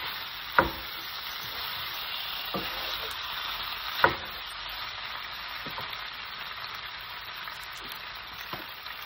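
Beef sizzles steadily in a hot pan with browned onion and tomato, a constant close hiss broken by a few sharp clinks and stirring scrapes, with no talking.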